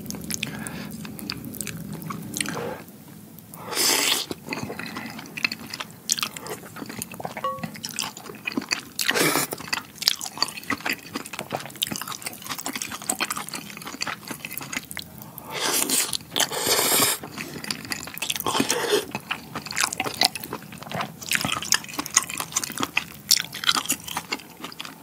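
Close, loud slurping, chewing and squishy bites of spicy octopus kimchi porridge topped with extra cheese, repeated wet mouth sounds in quick bursts with no talking.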